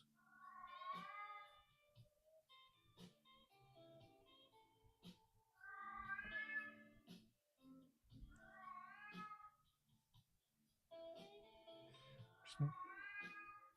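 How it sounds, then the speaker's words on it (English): A pet cat meows repeatedly in long, mournful, wailing calls spaced a few seconds apart, close and clear, with faint background noises between the cries. "My cat's singing the blues."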